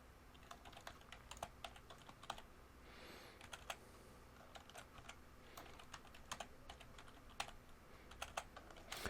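Someone types a new password on a computer keyboard, a steady run of quiet, close key clicks with irregular pauses and no voices.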